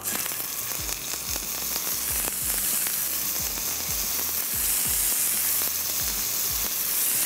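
Prawns fry in a hot pan for a tomato butter spaghetti dish, producing a loud, steady sizzle and crackle with occasional spitting pops throughout, close up with no talking.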